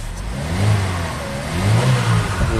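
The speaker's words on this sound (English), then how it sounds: "It revs up" A Chevrolet HHR SS Turbo, showing a reduced-power fault, revs its engine twice in close succession, each swell rising and falling over a rough idle, heard near and alone.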